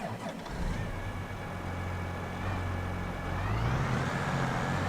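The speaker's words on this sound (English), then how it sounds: "This is a big tractor." A big 9570 tractor engine in Farming Simulator 22 drones steadily at a low pitch, rising slightly in pitch and loudness toward the end, heard alone with no talk.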